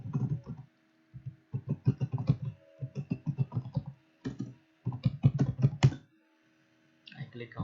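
Keys clatter on a computer keyboard in quick bursts as registration details are entered, close and clear, with short pauses between runs of typing.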